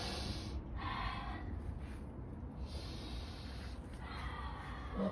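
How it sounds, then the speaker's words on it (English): A person sniffing hard, several strong nasal snorts and breathy inhales up close against a hissy, noisy background. "Sniff harder, bro."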